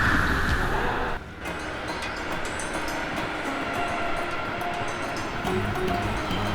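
A train rumbles past nearby, a steady loud roar of wheels and carriages with faint rhythmic clatter throughout.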